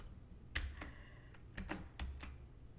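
Fingers type on a computer keyboard with worn, faded keys, a few soft, irregular clicks and taps spaced across a quiet, close room with no talking.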